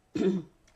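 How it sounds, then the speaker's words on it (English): A single short, close throat clearing, a brief rough burst that fades quickly into quiet. "clearing my throat."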